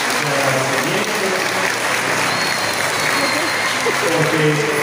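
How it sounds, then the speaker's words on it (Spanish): Sustained applause from a congregation during a Sunday Mass, steady and dense clapping throughout with voices mixed in underneath. "le damos un fuerte aplauso por el agradecimiento"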